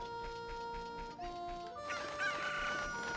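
A chicken crowing in Ocarina of Time on the N64, clucking tones then a loud cock-a-doodle-doo call over a looping musical background.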